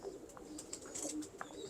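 Pigeons coo softly on a rooftop loft, faint throaty calls scattered among light chirps over a steady background hiss, with no speech.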